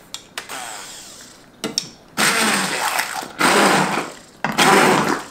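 A kitchen blender blitzes cooked fruit in three loud short bursts, each a harsh whirring roar lasting about a second, separated by pauses with a few clicks and clatters.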